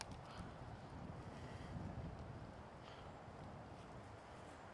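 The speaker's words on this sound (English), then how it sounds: "It's a windy one." Faint, steady wind blowing across a disc golf course, a low rumbling buffet against the microphone with no voices.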